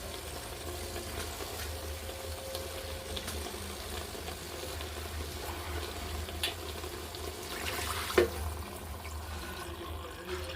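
Warm water pours steadily into a cooking pot, a continuous soft splashing that stays even throughout, with a brief clunk near the end.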